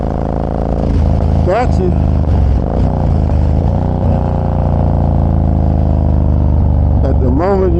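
A Kawasaki VN2000 motorcycle engine drones steadily and loudly while ridden at night, with a brief clatter and a voice speaking over it near the start and again near the end.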